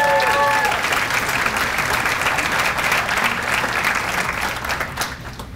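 At a recognition banquet, a large audience gives a steady round of applause to 25-year awardees, with dense, sustained clapping that tapers off slightly at the end and a brief voice at the very start.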